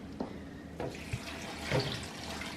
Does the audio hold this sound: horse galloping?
no